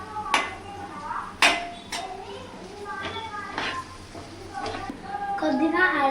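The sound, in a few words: stirring beans curry in a pan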